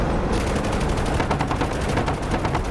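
Rapid automatic gunfire from attack helicopter combat in the flight simulator DCS World hammers on as a continuous, loud, evenly pulsing burst with no pause and no talking.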